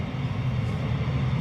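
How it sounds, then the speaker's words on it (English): Low, steady rumble of a train passing at a distance, a continuous loud drone of wheels and engine with no distinct horn or clacks, heard on its own without talking. "train in the background, very loud, wakes me up at 4 o'clock in the morning"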